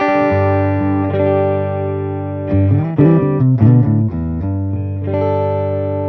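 A clean electric guitar rings through an amplifier, sustained chords with a few quicker strummed notes in the middle, warm and steady with no distortion.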